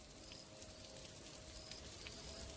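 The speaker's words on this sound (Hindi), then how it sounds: "बारिश इतनी तेज थी" Heavy rain pours down steadily around a school in the middle of a forest, a constant, even hiss of falling water that stays fairly faint and distant, with no voices.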